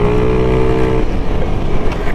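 A Yamaha NMAX scooter engine drones steadily while riding, loud and close with a tonal whine at first, then dissolving into rough wind-buffeted rumble.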